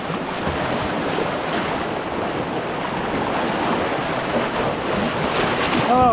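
River water rushes around a loaded canoe on the River Spey in Scotland, a continuous close, loud churning wash with wind noise and no voices.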